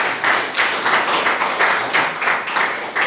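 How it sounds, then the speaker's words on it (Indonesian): A church congregation clapping in steady rhythmic bursts at a sermon, the claps close and moderately loud, filling the short stretch with no talking over them. "Tepuk tangan buat Tuhan Yesus."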